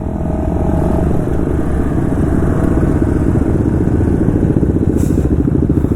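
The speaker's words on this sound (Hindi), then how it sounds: "लगभग सभी कोई का जो बाइक है ना सब लाउड वाला है" Loud motorcycle engines rumble and clatter continuously close by, a dense mechanical drone of bikes passing with no speech.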